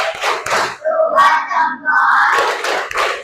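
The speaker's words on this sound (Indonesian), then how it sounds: "Tepuk salut" A class of students performs a salute-clap routine, chanting together in loud unison with a few sharp group claps landing between the chanted phrases.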